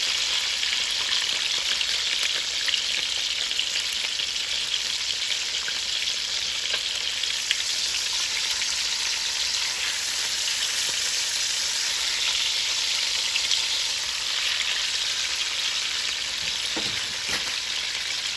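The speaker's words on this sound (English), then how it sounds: "I'm going to let those brown for about 4 minutes on each side." Short ribs searing in a hot Dutch oven, a loud continuous close sizzle and crackle of frying meat lasting throughout with no talk.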